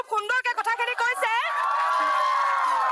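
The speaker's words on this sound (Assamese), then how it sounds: "ডাঙৰকে হাত চাপৰি" Applause from the audience at a Gyanpeeth Degree College gathering: a voice talks briefly, then a dense, steady wash of clapping takes over and holds at a loud level to the end.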